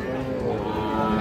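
At a cattle market selling small bulls and heifer calves, a calf gives a low, sustained moo under a dense wash of background market noise.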